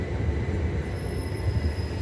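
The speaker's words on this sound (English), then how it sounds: "But here comes my train at last." A train rumbles steadily into a station in East Sussex, wheels grinding with a thin high metallic squeal running over the low roar.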